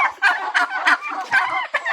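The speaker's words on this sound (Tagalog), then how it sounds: "Ingay ng mga pabo." Turkeys gobble nearby in a rapid, bubbling series of loud calls, several birds overlapping without any talking.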